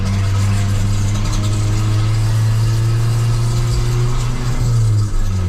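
A Fiat Punto Evo car with a fault, its engine running with a loud, steady low droning hum and an uneven mechanical rumble heard from inside the cabin, continuous and close.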